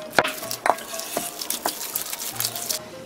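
Kimchi seasoning paste being stirred and loosened in a bowl, with a few sharp clinks and scrapes followed by soft, wet mixing sounds close by.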